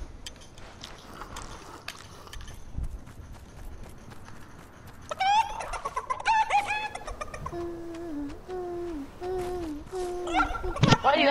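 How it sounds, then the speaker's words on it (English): Chicken clucking in the Fortnite video game, with several short bright squawks and a crowing-like call over game effects and background, mid-loud, while players talk faintly. "Why do you have a chicken?"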